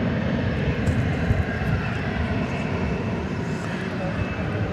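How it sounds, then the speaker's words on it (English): A Delta Airbus A380 arriving from Los Angeles lands at Dallas/Fort Worth airport, its engines a broad, steady roar holding at an even level throughout. "It will be Delta Flight 420. Coming in from Los Angeles, an Airbus A380."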